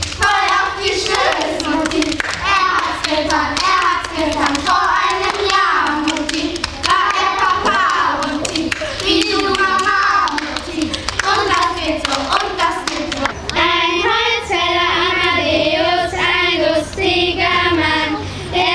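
Children clap hands in a street clapping game in the Rhine and Meuse region, steady rhythmic close claps running throughout, mixed with children's sung or chanted voices.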